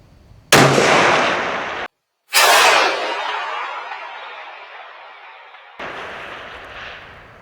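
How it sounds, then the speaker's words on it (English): A 10 lb 6.5 Creedmoor rifle fires two sharp, loud shots about two seconds apart, each with a long decaying echo, followed by a fainter distant crack. "watch the recoil on this rifle"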